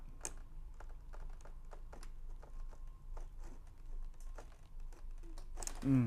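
Scotch tape on a Toy Story REX toy box is slit carefully with a blade, giving a faint run of small ticking clicks and crinkles that ends in a brief louder tearing sound.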